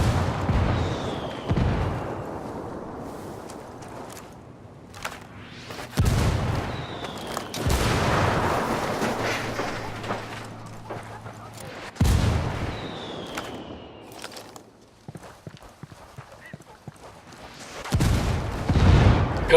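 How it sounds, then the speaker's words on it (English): Mortar fire called in from rebels in the video game Ghost Recon Wildlands, several heavy booms landing a few seconds apart, each a loud thump with a rumbling tail, spaced out between quieter game ambience. "I called the rebels for mortar fire."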